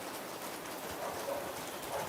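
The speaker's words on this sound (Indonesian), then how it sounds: "Hujan itu turun membasahi bumi" Steady rain falls in a continuous even hiss of drops on surfaces, moderately soft, with a faint bird call in the background and no talk.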